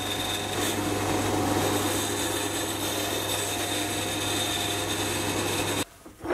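A metal lathe turns the outside of a part held on a live center, giving a steady, close machining whir with a constant tonal hum. The sound runs evenly, then cuts off abruptly near the end.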